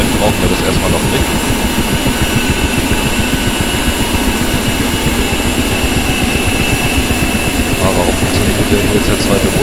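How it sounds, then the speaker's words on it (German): In the DCS World flight simulator, the engines of a Ka-50 Black Shark attack helicopter run with a loud, continuous turbine whine and a dense rumbling drone at a constant level. "So, nächstes Triebwerk auch starten. Motor dreht sich auch schon, sehr gut."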